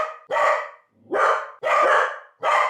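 Two family dogs bark in loud, close bursts, four sharp volleys with short gaps between them and no talking.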